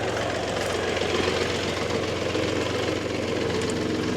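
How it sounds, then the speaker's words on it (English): An old tractor engine idles steadily at close range, a continuous low rumble with a faint knocking pulse and no speech over it. "Let's see if we can sneak the old tractor back in here."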